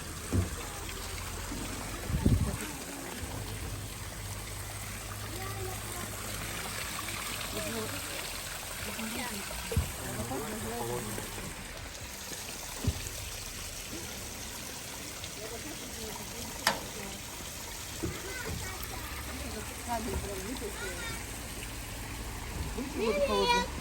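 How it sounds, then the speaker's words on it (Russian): Cold water runs and trickles steadily from a mountain spring in Chechnya, a constant splashing flow close by, with voices talking over it now and then. "Родник называется девичья коса."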